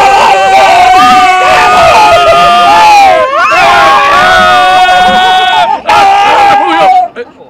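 Live audience at a cultural evening of words, music and theatre shouting and cheering loudly together over sung chanting, a dense sustained crowd roar with brief dips.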